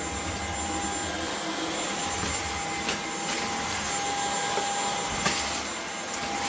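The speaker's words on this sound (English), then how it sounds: "Also, the vacuum cleaner is very silent, I must admit." A Dyson Outsize Absolute cordless vacuum cleaner runs at a steady, even whine with a high tonal hum, continuous and close throughout with a few faint bumps.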